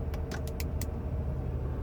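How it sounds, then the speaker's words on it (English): A 1993 Mercedes 190e Sportline LE 2.6 with its windshield wipers running. A handful of quick, brisk swipes sound over a steady engine hum inside the car. "Car's wipers work."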